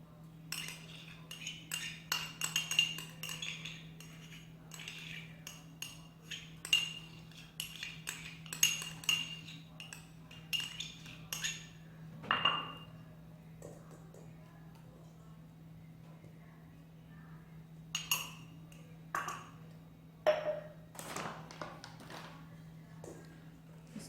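A spoon or utensil knocks and scrapes in a bowl in uneven bursts as homemade bread dough is mixed with margarine, with clinks close by, gaps of quiet between them, and a low steady hum underneath.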